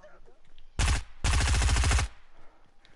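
A Tommy gun in the video game Fortnite fires two rapid bursts, a short one followed by a longer sustained rattle, loud and close.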